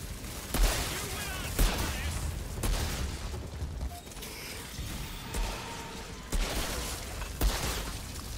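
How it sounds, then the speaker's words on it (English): Shotgun blasts in the video game Outriders thud repeatedly at roughly one-second intervals amid a dense, noisy battle mix with clanks and rumble. "let me get my shotgun out"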